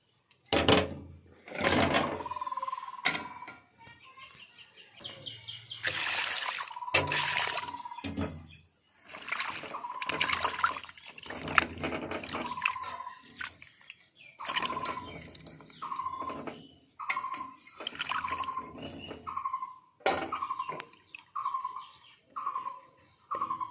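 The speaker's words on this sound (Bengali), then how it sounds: "আমি ভালোভাবে ধুয়ে নিচ্ছি।" Running water splashes as scraped pointed gourds are rinsed in a kitchen, with repeated bursts of pouring and handling, close and moderately loud, no talk.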